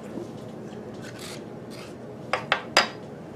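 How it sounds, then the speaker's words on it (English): A spoon scrapes the seeds out of a halved zucchini in a home kitchen, giving soft rasping strokes followed by three sharp, close scraping clicks near the end, with no speech. "You can just take your spoon and gently pull across it, and all those seeds will come straight out."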